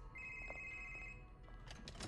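A telephone rings in the video game Spider-Man Remastered: one steady electronic ring tone holds for about a second, then fades into quiet game ambience, faint and with no talking.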